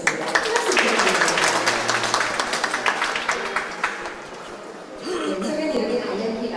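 Applause from the audience at an elevator accident-response safety training event in Gwangju's Nam-gu district, a dense burst of clapping that thins out partway through, with a voice over a PA speaking afterward.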